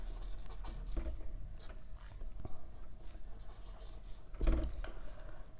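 Chalk or marker scratching out an equation on a board, quick rubbing strokes and taps in short bursts, close and fairly loud over light room noise.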